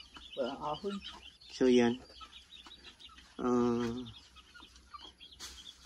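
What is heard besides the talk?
chickens clucking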